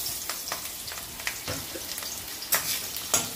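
Diced potatoes with green chillies frying in hot oil, browning for a watermelon-rind dish, a soft continuous sizzle broken by sharp spatula scrapes and clacks, two louder knocks near the end.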